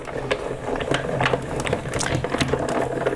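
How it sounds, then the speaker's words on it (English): A Spellbinder die cut machine runs steadily as a paper craft piece is fed through, giving a continuous mechanical whirring with irregular clicks and crunches, close and moderately loud throughout. "we're going to run that through the die cut machine"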